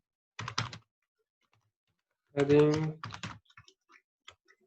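Computer keyboard keys clatter in short bursts while code is typed, quick clicks separated by pauses, with a bit of talk mixed in partway through.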